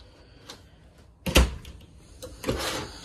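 Deep kitchen drawers in a 2016 Jayco Eagle RV are handled, with a soft slide followed by a sharp thud as one closes, then another quieter slide and bump in an indoor space.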